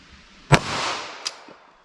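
A .22 Magnum fired with Hornady Critical Defense ammunition: one sharp, loud report with a short ringing decay, then a fainter pop about three-quarters of a second later, outdoors with no talk.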